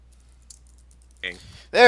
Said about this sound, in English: I'm typing something real quick.